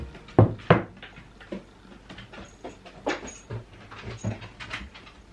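A dog's sharp barks ring out twice near the start, followed by softer scattered yelps and whines.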